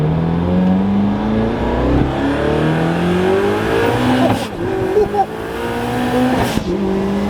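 An SSC Tuatara supercar engine revs and climbs through gears to about 200 mph, rising in pitch with sharp shifts between, loud and close, while voices exclaim over it.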